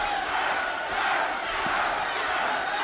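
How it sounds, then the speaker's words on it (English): A dense arena crowd at a heavyweight boxing match roars and chants in a loud, continuous wall of massed voices. "The crowd is chanting ice, ice, ice."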